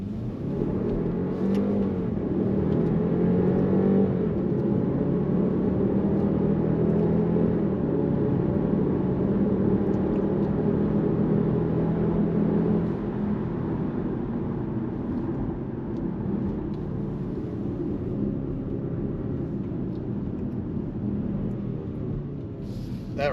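A car engine pulls hard up the Pikes Peak road in Colorado, droning loud and continuous for the whole stretch with a steady low rumble and rising, falling revs as it takes the fast corners.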